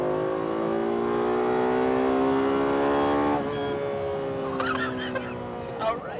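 A Lexus LFA V10 engine revving hard from inside the cabin, a rising, sustained high-pitched wail that holds then drops away, followed by lighter clicks and interior sounds.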